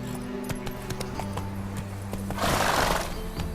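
Roach the horse in The Witcher 3 whinnies and gallops, with a steady clip-clop of hooves and a brief louder burst of movement near the end, carried over an ambient game soundscape.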